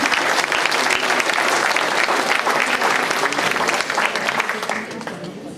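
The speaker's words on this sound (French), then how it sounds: "Donc on le remercie beaucoup et on l'applaudit." A hall audience claps for the composer of a dance piece, a dense, loud burst of crisp applause that holds steady and then tapers off toward the end.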